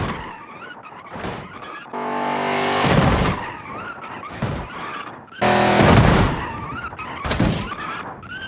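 A Dodge Charger in the BeamNG.drive video game races at top speed, its tires screeching and skidding in repeated loud bursts with heavy impact thuds, the engine roaring between the squeals.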